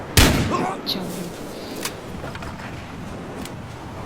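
Weapon fire from a double cannon in the online shooter Battlefield Heroes, a loud sharp blast at the start followed by a few fainter shots and rumbling game noise, with someone speaking briefly over it.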